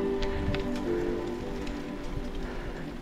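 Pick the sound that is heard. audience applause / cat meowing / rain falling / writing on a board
rain falling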